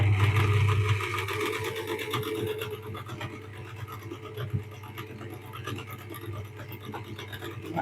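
Singer 319k sewing machine stitching fabric, a steady mechanical whir with fast rhythmic needle ticking that fades slightly after the first second, close and alone.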